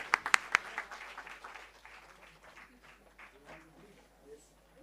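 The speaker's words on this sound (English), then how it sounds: "Please, we can have a huge round of applause." An audience at an academic conference ceremony claps as a vice chancellor is presented a bouquet and shawl, opening with a few sharp loud claps, then thinning into scattered softer clapping with faint voices in the background.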